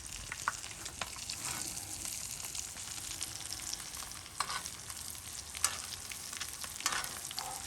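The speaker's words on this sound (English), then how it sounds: "I'm gonna finish butter basting these" Pan-seared halibut sizzles steadily in butter as it is basted, a close, continuous crackle broken by sharper spits and splashes from the spoon.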